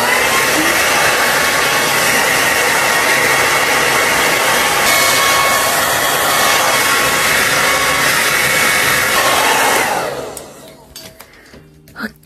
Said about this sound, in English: Then I blow dry it again.